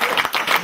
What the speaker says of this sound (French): Mélésis pour l'applaudir.